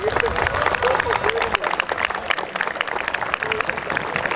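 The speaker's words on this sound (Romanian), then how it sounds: "Vă rog să-i primim pe cu aplauze domnul primar Cosmin Necula." A gala crowd at an awards ceremony for blind football gives the mayor a warm round of applause, with dense, fairly loud clapping and murmuring voices mixed in throughout.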